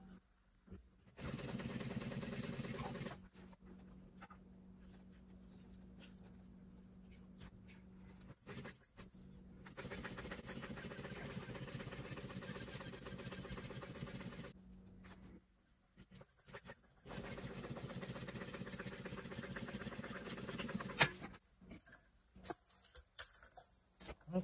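A sewing machine stitches straight across a clear vinyl tote bag in several long, steady runs with short pauses between them, a faint, even mechanical hum.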